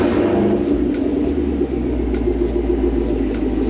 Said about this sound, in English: let's go ahead and go for a test drive so you guys can kind of actually hear the car